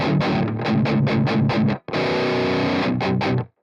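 A distorted electric guitar through a Marshall JCM 800-style lead amp simulation with heavy power amp saturation, choppy rhythmic chugs, then a brief gap and a sustained run before stopping, loud and close.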